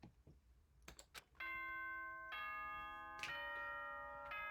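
A ding-dong chime from the Danganronpa video game rings out after a few soft clicks, bright sustained tones ringing layered and clear with no talk over them.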